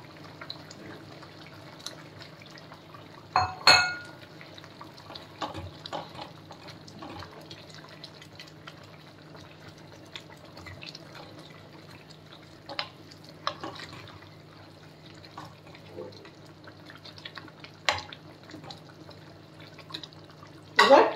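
Hot water pours into a pot where a fish head is simmering in a home kitchen, a low steady wash of liquid with a few soft clinks and bumps scattered through.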